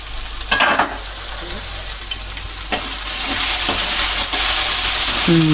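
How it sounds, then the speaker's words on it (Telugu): A spatula scrapes and stirs through food in a hot pan over a constant sizzle, with a few sharp clanks of metal. "ఇప్పుడు మూత తీసి చూతామండి కలుపుకుందాము"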